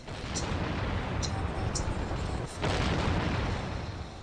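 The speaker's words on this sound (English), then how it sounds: "At 4:40 a.m. on March the 21st, 1918, German artillery began firing." German artillery firing in 1918 as a sound effect: a constant heavy rumble of bombardment with a few sharp distant cracks and a deep boom partway through.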